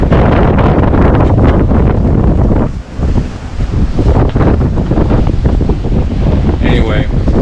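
Strong 30-knot wind roars across the microphone with heavy seas surging around a single-handed sailboat offshore between Bermuda and Key Largo, a loud continuous rushing with wave crashes.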